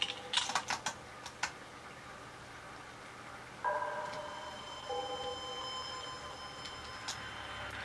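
Quick bursts of keystrokes on a Bluetooth keyboard, a flurry of close, crisp clicks at the start and a few isolated taps later, over a quiet background with a faint electronic tone.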